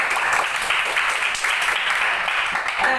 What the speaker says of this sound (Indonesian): Jadi kita tepuk tangan untuk Abdurrahman.